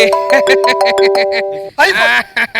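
An owner's iPhone rings with a steady multi-tone ringtone held for about a second and a half, sounding clearly over overlapping talk in a comedy scene before voices take over.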